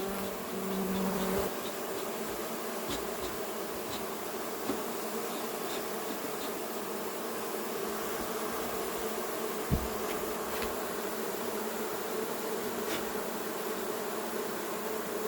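Honey bee swarm recently settled near Vaux-le-Pénil, a steady dense buzzing of many insects holding evenly through the whole stretch with no talk, a few brief clicks and knocks above it.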